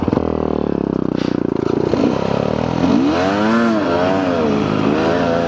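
Off-road motorcycle engine revving hard on a steep uphill dirt climb, a loud continuous drone with rising and falling pitch sweeps as the rider works the throttle, close to the mic throughout.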